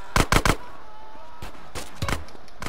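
AK rifle fire in GTA San Andreas: short, sharp bursts of loud shots, three quick cracks at the start and a few more later, set against a steady low background bed.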